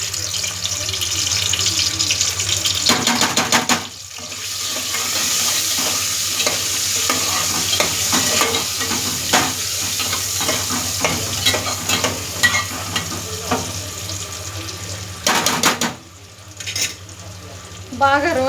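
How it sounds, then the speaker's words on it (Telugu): Boiled eggs are stirred and roasted in a pan for an okra and egg curry, giving steady sizzling and frying with repeated scraping strokes and a couple of louder bursts of clatter and splashing. "బాగా రోస్ట్ చేయాలండి."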